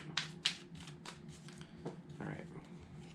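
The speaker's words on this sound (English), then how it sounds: "We've got 2 more shuffles." Tarot cards shuffled by hand in a series of quick, papery riffling bursts, two sharp ones early and softer ones after, close and fairly quiet over a faint background hum.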